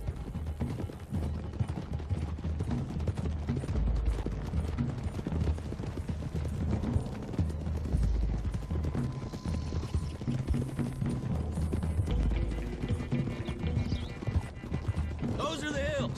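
Horses gallop with rhythmic clip-clop hoofbeats in Red Dead Redemption 2, a western video game, under steady music and a voice throughout, with occasional neighs.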